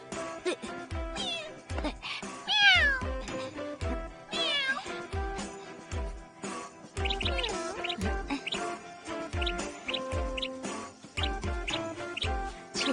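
A cartoon cat in a Hindi-dubbed anime meows several times in rising and falling cries, mixed with a steady rhythmic backing and other voices.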